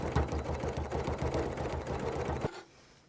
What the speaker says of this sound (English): I can now just stitch holding this ruler. Start with that needle down and move